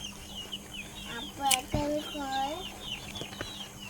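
Caged quails on broiler starter feed give a few soft chirps and clucks at close range over a faint steady hum, with brief scattered calls.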